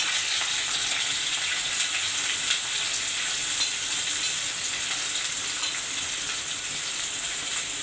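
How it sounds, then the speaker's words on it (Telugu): Green chillies and onions fry in hot oil, producing a loud, steady, close sizzle that hisses continuously without pause, with faint stirring scrapes underneath. "ఇవి బాగా ఫ్రై అవ్వనిద్దామండి"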